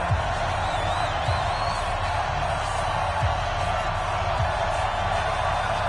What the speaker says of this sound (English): And in front of a raucous crowd, this one is underway.